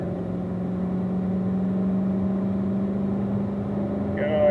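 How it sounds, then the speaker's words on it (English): Corvette on a race track pulling out of a corner, a steady engine drone and rumble heard from inside the car that rises slightly near the end. "squeezing that throttle smoothly as we come out of the corner."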